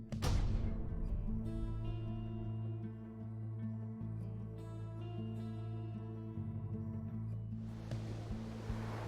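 Water rushes and washes continuously in the video game Pyre, beneath sustained synthesized tones and music, a soft surf-like swell that fades toward the end.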